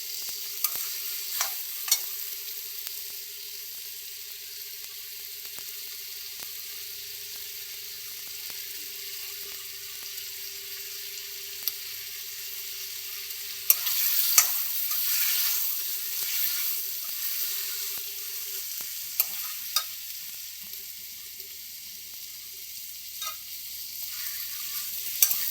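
Tomato, onion, garlic and green chilli fry steadily in a pan for a paneer butter masala, a continuous close sizzle with occasional stirring scrapes and small pops, no voices.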